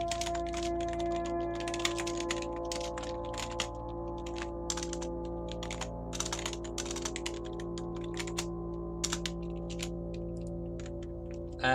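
Typing on a computer keyboard, rapid irregular clicking bursts with short pauses, close and crisp over a steady low electrical hum.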